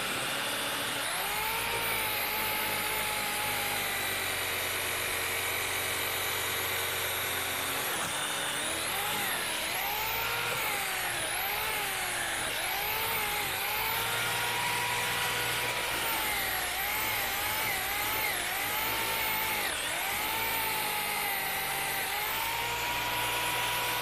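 Electric buffer polishing car paint and stripping rust, a continuous motor whine that shifts pitch as load and RPM change, steady and close without talk.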